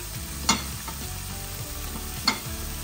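Garlic and celery fry in olive oil for a pancit dish, a steady close sizzle broken by two sharp scraping stirs.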